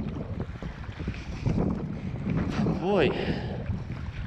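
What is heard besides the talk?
wind blowing hard against a boat at sea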